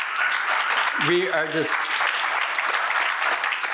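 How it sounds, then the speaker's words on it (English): Audience applause at a Vermont housing presentation, a broad steady wash of clapping running the full length, with a speaker's voice briefly over it. "how about a round of applause"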